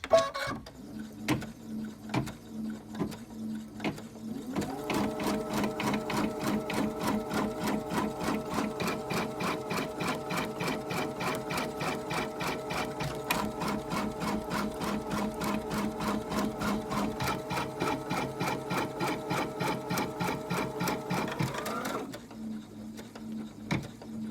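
A Babylock embroidery machine, Meridian or Altair, sews a basting stitch around a design, a steady rapid mechanical needle rhythm running for most of the stretch before slowing and stopping, with no talking.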